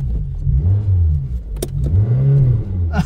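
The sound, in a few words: Peugeot 205 engine revving as it starts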